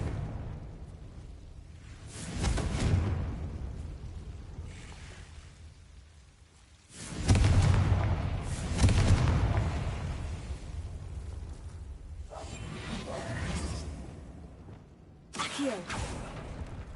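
Confringo fire spells blasting in Hogwarts Legacy gameplay, several loud whooshing explosions in separate bursts about five seconds apart, each decaying into a crackling rumble, with a short sharp blast near the end.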